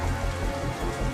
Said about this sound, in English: Some of the water drops become too heavy for the updraft of air to lift and fall as rain.